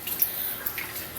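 Water poured into a pot of coconut milk tilapia stew with bitter melon, squash and moringa, a brief soft splashing trickle up close, fairly quiet.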